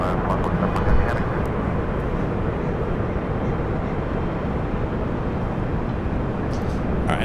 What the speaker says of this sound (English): heading back to London Gatwick, the 787-9 Dreamliner